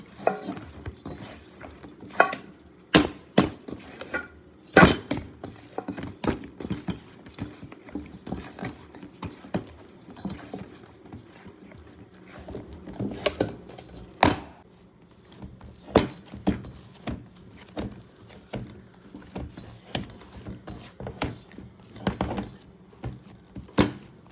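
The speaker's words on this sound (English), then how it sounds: "I use my hand to knead it." Hands knead soft bread dough for cheese buns, making irregular sticky slaps, squishes and dull thumps on a surface. The sounds come in uneven clusters, close up and moderately quiet.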